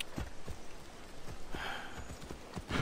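A horse's hooves clip-clop at a walking pace in the video game Assassin's Creed Odyssey, with regular close thuds under a faint ambient wash.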